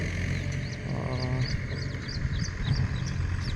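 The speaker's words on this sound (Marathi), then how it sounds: "माझ्या आजूबाजूला देखील तुम्हाला आता अनेक पक्ष्यांचा आवाज येत असेल" Several short bird chirps repeat over a steady outdoor background hum, with a brief low rumble partway through; the calls are moderately distant and intermittent.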